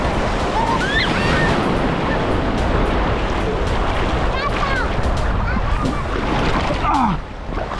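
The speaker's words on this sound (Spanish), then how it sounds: "ahí vienen las olas." Ocean waves break and wash continuously on a beach in Cancún, a loud, steady roar of surf with wind buffeting the microphone, and a voice calling out briefly over it.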